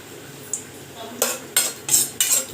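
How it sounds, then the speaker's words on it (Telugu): Cashews fry in hot ghee under a faint sizzle, while a spoon makes several loud metallic scrapes and clinks against the pan in quick succession, close by. "ఇందులో జీడిపప్పులు వేసుకొని మనం బాగా ఫ్రై చేసేసుకోవాలి"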